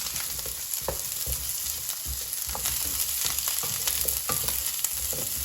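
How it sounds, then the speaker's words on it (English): Radishes sauté in a hot pan, a steady close sizzle and fry broken by scraping, clacking strokes as they are stirred and turned, with no talking. "So now the radishes have been cooking for several minutes, so I'm going to mix them."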